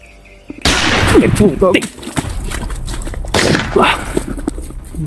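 Sharp rifle shots crack out in a video game, one early and another a few seconds later, with excited talking throughout.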